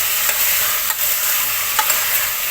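Mutton for korma fries in a pot with a loud, dense hiss, close by, with a few sharp stirring scrapes breaking through the constant sizzle.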